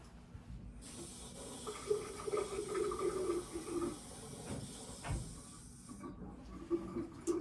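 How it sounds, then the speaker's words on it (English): Warm water runs from a tap in a real medical office as a speculum is rinsed, a steady soft hiss lasting several seconds with faint clinks underneath. "We'll put it under some warm water here."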